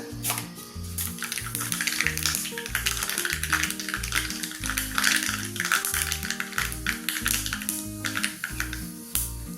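Mustard seeds crackling and popping in hot coconut oil, a dense steady spatter of sharp pops under a background tune.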